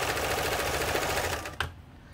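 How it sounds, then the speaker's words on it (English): A Montgomery Ward J1460 sewing machine runs a long straight stitch, a fast, steady mechanical chatter that stops abruptly near the end with a small clunk. "let's lengthen the stitch out to the longest stitch"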